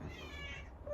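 A pet cat gives a single short, faint meow indoors in a bedroom being tidied, quiet and brief.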